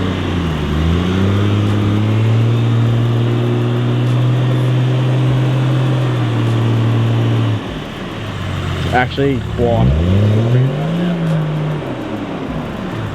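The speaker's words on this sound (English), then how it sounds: "How good does the troopy sound on boost though?" Toyota Land Cruiser Troop Carrier engine pulling hard on turbo boost while crawling a rock garden off-road, a loud, steady droning roar that dips, then revs up again with a rising whine, as people talk over it.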